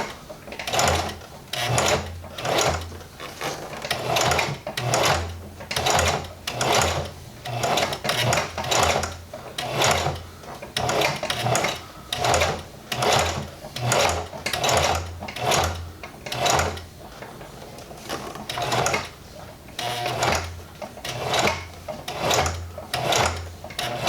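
Sewing machine stitching a Miata e-brake boot in regular bursts of rapid mechanical chatter, close up, with brief pauses between runs and no talking.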